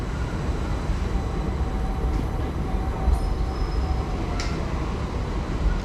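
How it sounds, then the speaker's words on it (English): Class 377 electric train, unit 377 620, pulling into a Surrey branch-line station: a steady low rumble of rolling stock runs throughout, with faint wheel squeals and a brief high hiss of braking. "Just arriving in here is 377 620"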